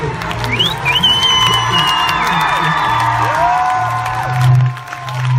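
Hall audience at the Eesti Laul song contest applauding and cheering, with loud sustained clapping, whoops and whistles filling the space continuously.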